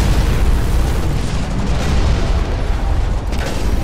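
A grenade launcher blast in the mech shooter Hawken roars as a loud, dense explosion with a heavy low-end rumble that sustains and slowly decays across the whole span.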